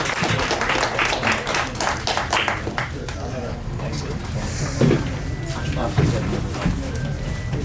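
An audience at a movie press meet claps while a speaker talks over the sound, with irregular slaps continuing around the voice at moderate loudness.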